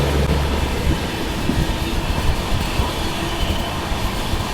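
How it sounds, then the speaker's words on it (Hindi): Heavy, constant rail rumble and rattle fill the air as the train pulls past the Singrauli–Tanakpur Triveni Express on a parallel track, loud and unbroken, with no voices. "ये देखो सिंगरौली टनकपुर त्रिवेणी एक्सप्रेस ओवरटेक कर रहे हैं भाई"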